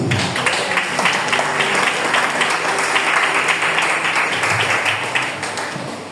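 Congregation at a French-language church service applauding, a steady dense wash of clapping that holds evenly throughout and tapers slightly at the end.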